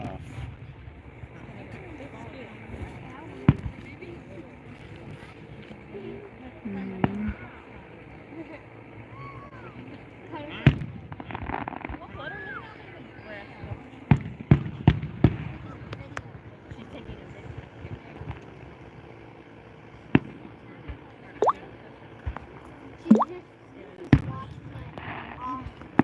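Fireworks going off in Jefferson County, southern Wisconsin, as scattered distant bangs and pops of varying loudness spread over a low background rumble, with people talking nearby.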